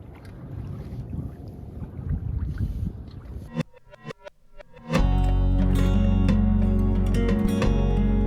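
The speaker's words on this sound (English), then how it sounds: "Big gust of wind picked up" Aboard a 24-foot sailboat in winter near Blake Island, a sudden strong gust roars across the microphone, a heavy, continuous blast after a stretch of softer wind and water noise.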